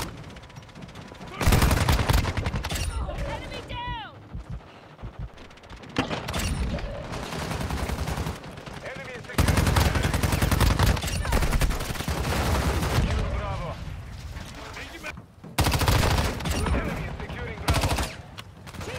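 Bursts of gunfire in Warzone Mobile, loud automatic volleys separated by quieter gaps with other game sounds and brief talk between them.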